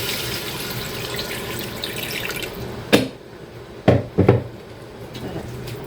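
A small amount of water added to a pan of simmering chicken thighs, a steady wet hiss followed by a few sharp splashes and clinks near the end, close by.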